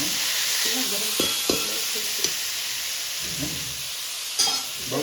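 Bottle gourd curry cooking in a pan, a loud, close, continuous hiss and sizzle with scraping stirring strokes and a few clinks of a utensil, no talk.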